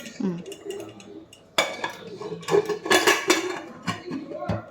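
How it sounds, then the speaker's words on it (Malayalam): A voice speaks briefly, then metallic clanks and scraping as a pressure cooker lid is fitted and locked shut over chicken biryani, close and fairly loud. "കുക്കർ അടയ്ക്കാൻ പോകും."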